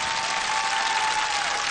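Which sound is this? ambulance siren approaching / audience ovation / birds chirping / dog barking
audience ovation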